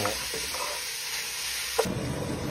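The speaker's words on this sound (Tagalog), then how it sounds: "At ihalo naman natin ang ating pork para maluto." Pork and ginger stir-fried in a hot pan give a steady close sizzle, with a single sharp clink of the utensil near the end.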